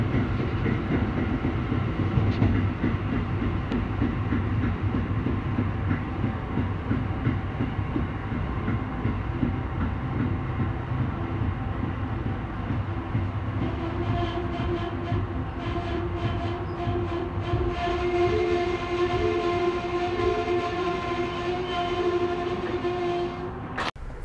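A train pulls into the Newark Liberty International Airport station, a steady loud rumble of railcars with rising brake squeal and tonal whines as it slows, continuous throughout with no talk.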